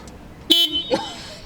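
A car horn gives two short, close honks about half a second apart, the first louder and cleaner than the second, inside a quiet space with faint voice-like sounds around them.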